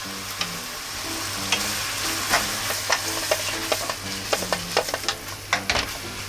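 A meat and onion croquette filling is stir-fried over strong medium heat to drive off its moisture, giving a constant hissing sizzle with a run of rhythmic scrapes and taps from the spatula.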